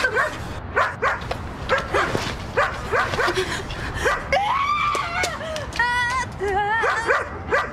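A dog barks and yelps repeatedly at close range, its sharp high-pitched cries mixed with whimpers and whines in an uneven rhythm throughout.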